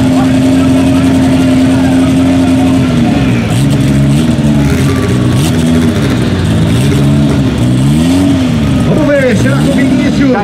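Drag racing cars, including a Chevette, launch and pull hard down the strip at Londrina, engines rising and shifting through several loud revving sweeps, close and dominant, with commentary layered over the roar.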